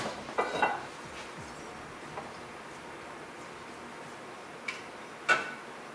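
A ladle clinks against a pot as halibut curry is dished into a big serving bowl, with a few faint, scattered metallic taps in a quiet kitchen.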